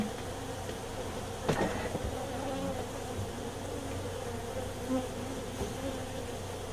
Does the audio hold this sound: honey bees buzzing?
yes